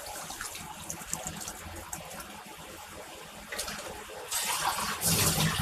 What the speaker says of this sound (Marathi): अच्छा, पाणी टाकणार नंतर मग थोडंसं रस्सा ठेवणार.